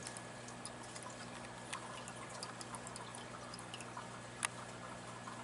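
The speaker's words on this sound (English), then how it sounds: "He's going right towards the new water that's pouring into the tank" Water trickles gently into a reef aquarium while mandarin gobies are acclimated, a faint continuous pour with soft drips and small splashes over a steady low hum.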